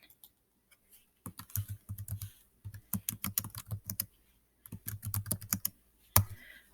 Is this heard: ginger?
no